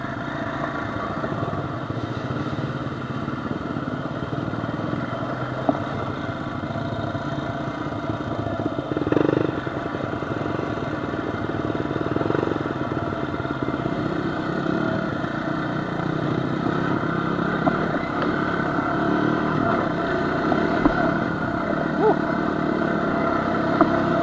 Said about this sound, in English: Ness is gonna take out a dirt bike. I'm gonna take the quad.